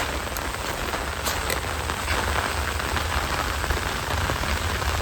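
Steady, dense rain falls in a village, a continuous close hiss of drops pattering on surfaces that keeps an even loudness throughout, with no voices.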